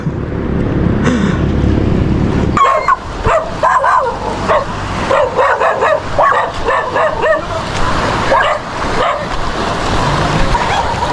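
Several dogs bark and yip repeatedly, loud and close, in irregular bursts over a background of traffic and a rushing, surf-like noise.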